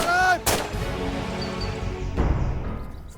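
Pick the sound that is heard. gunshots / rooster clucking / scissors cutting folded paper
gunshots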